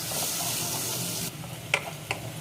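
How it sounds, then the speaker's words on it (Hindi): Chopped onion fries in oil in a pan, a soft steady sizzle that drops lower partway through, followed by two sharp utensil clinks, close and fairly quiet, no speech. "ये देखिए, प्याज को मैंने थोड़ा फ्राई कर लिया है।"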